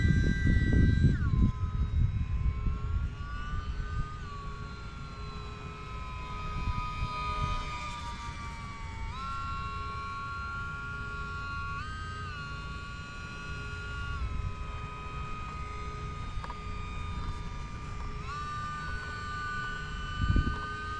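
UMX Pitts RC model biplane, freshly rebuilt after a crash, flying overhead with a steady high electric whine that rises and falls as the throttle changes, heard alone over wind rumble on the microphone for about twenty seconds.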